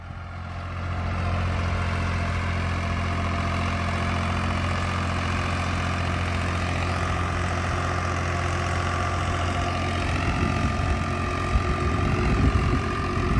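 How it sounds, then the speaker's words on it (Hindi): A 39 HP Swaraj 735 tractor fitted with a 9-tine cultivator and an oversized silencer idles steadily with a loud, even, low engine drone that roughens slightly toward the end. "भाई मात्र 39 HP का ट्रैक्टर है।"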